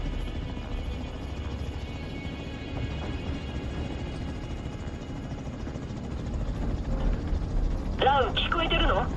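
A helicopter landing in the game The Division 2, its rotor drone steady and rumbling beneath game noise, a bright electronic beeping near the end, with a voice speaking over it.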